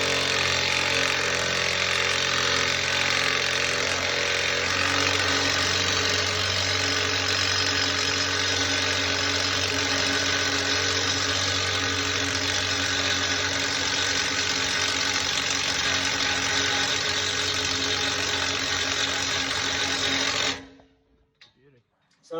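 An air gun pulls new wheel studs through a trailer hub, a loud continuous mechanical whir that runs for about twenty seconds close to the listener and then cuts off abruptly.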